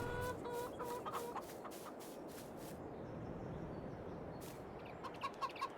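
Chickens in Farming Simulator 22 cluck in short bursts, mostly near the start and again at the end, over a low steady background hum.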